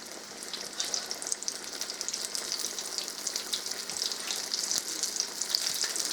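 Breaded cod fillets pan-fry in oil, giving a steady, bright sizzle with small crackles close by. The sound is moderately quiet and continuous, with no talking.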